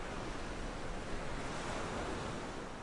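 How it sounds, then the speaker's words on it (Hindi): Ocean waves crash against a Gujarat shoreline in a continuous roaring wash of surf, loud and close, with no voices over it. "समुद्र के किनारों से टकराती हुई मौजें"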